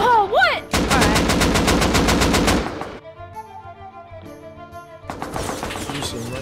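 Rapid automatic gunfire in the survival video game Rust, loud and close, a long burst of evenly spaced shots, then a tonal lull, then more shots, with a voice briefly at the start.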